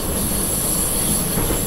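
A train running on the Mittenwaldbahn route in Train Simulator 2018, giving a steady, continuous rumble of rolling wheels and car noise with a faint high whine throughout, no talk over it.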